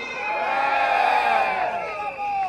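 A crowd cheers and shouts together at an outdoor political rally in Sembawang, Singapore, just after rain, a loud sustained burst of voices rising and falling over a couple of seconds.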